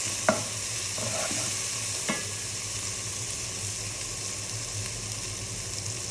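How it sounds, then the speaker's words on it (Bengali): Bottle gourd with lentils and spices sautéing in a pan: a steady loud sizzle runs throughout, broken early by a few sharp spoon scrapes and knocks against the pan. "এখন এটাকে আমি ভালোভাবে কষিয়ে নিব।"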